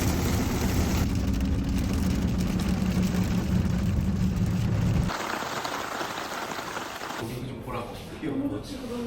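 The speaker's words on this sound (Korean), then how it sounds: "아가 밖에 비가 오고 있어" Steady rain pours outside during a trip on Jeju Island, a dense continuous hiss that thins partway through, with a faint engine-like rumble underneath.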